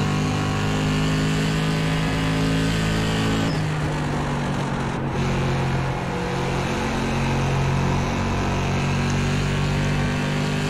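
An SK Modified race car engine in the iRacing sim roars continuously at high revs around the track, a loud, steady drone with a brief dip in pitch partway through.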